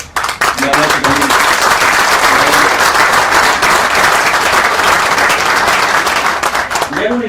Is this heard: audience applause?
yes